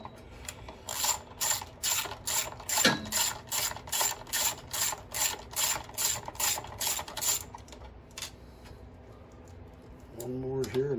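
Ratchet wrench clicking in a fast steady series of strokes while screws come out of a NorthStar 10,000 watt generator, close and clear, with someone talking over parts of it.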